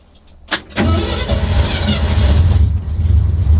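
A sharp click, then a car engine cranks and catches, settling into a loud, rumbling idle close by.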